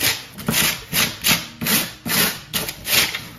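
Wire brush scraping across foam board to carve a rock texture, a series of about seven rhythmic, close, bright rasping strokes with no talk.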